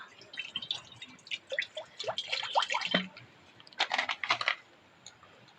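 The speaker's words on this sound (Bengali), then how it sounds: "উনুনের উপর কড়াটা আবার বসিয়ে দিলাম দিয়ে কড়ার মধ্যে সামান্য পরিমাণে একটু জল দেবো" A little water poured into a hot kadai while making moong dal malpua, with irregular splashing drips and metallic clinks in short bursts, then a brief pause and a final flurry before it fades.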